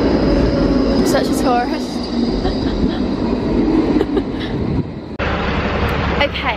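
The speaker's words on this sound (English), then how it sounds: "we have just got off the tram. Sorry, it's a bit noisy." A tram rumbles and screeches along a street in Antwerp, steady loud rolling noise with squealing wheel tones and traffic around, ending in a sudden shift as the sound cuts and resumes.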